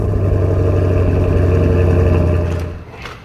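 A car engine hums steadily with a low droning tone close by, then fades away over the last second as it pulls off, leaving quieter background.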